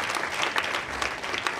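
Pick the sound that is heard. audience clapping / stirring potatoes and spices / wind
audience clapping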